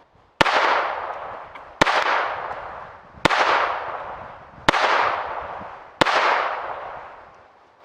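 Five loud, unsuppressed gunshots ring out alone at steady intervals of roughly one and a half seconds, each a sharp crack followed by a long decaying echo, fired outdoors in a decibel check.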